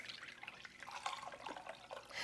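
Bone broth pours from a carton into a Ninja Foodi pot, a faint, continuous splashing trickle with small irregular drips. No voices accompany it.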